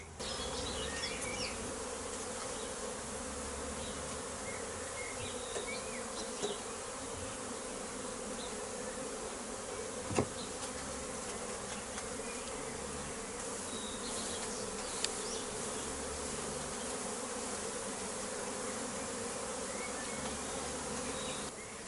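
Dense, steady buzzing of many honeybees close by around a hive, continuous throughout with a few faint clicks and knocks.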